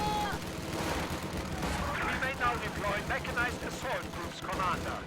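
Field gun artillery firing in a real-time strategy battle, with bursts of distant gunfire and booms amid infantry fighting, fairly faint under a voice commentating.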